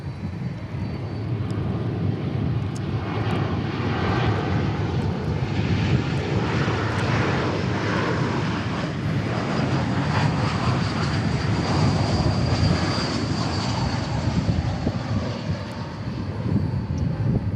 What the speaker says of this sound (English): A321 America West livery. There it is.